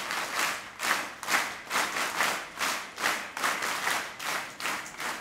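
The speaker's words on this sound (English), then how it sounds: "give a special clap for this motivating words" Audience at a Sikyong visit to CST Herbertpur claps together in a steady rhythmic beat, about two claps a second, moderately distant and without talk.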